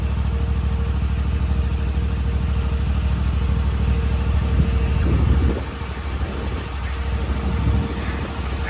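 A zero-turn lawn mower engine running close by, a loud steady low drone that dips briefly and then rises again.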